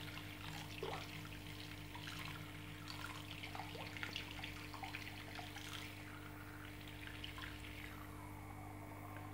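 A homemade water pump runs at high speed, giving a steady low motor hum under continuous splashing, trickling water, with no voices.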